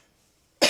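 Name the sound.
cough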